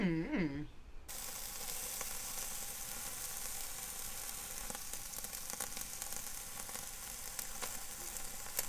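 Ribeye steaks sear over hot coals on a charcoal kettle grill with a Slow 'N Sear insert, making a steady, dense sizzle that carries on evenly throughout after a brief tonal sound at the start, with no talk.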